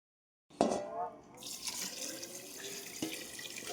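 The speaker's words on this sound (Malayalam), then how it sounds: "ഷുഗർ വാട്ടർ ഒഴിച്ചു കൊടുക്കാം." Sugar water poured into a jar of wine ingredients: a short splash, then a steady close trickle and gurgle of liquid that keeps running, with a small knock near the end.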